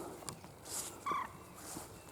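A few short, sharp coot calls ring out faintly at a distance over a quiet outdoor background, with no talking.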